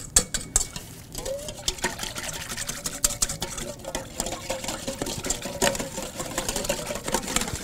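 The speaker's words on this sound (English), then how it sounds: "I'm just going to whisk this together" A whisk clicks rapidly against a bowl while mixing a loose sauce for steak strips, a busy, continuous rattling and scraping close by with no talk.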